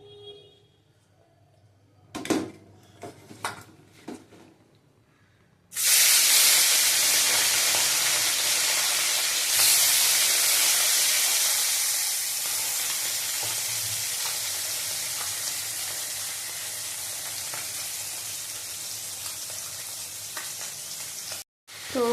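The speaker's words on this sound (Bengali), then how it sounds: "তেল গরম বসিয়ে দিয়েছি, এবার পুঁটি মাছগুলো ভেজে নেব।" Small puti fish, cut and coated in salt and turmeric, dropped into hot oil in a kadai: a few clinks and handling sounds, then a sudden loud, steady sizzle and hiss that gradually eases, with a brief clatter at the end.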